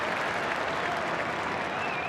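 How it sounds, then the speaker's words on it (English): Rugby league players on the field applauding teammates during a 2001 Northern Eagles versus Bulldogs NRL match, a steady wash of clapping and crowd noise heard at a distance, faint and continuous. "They're applauding everything that their teammates do."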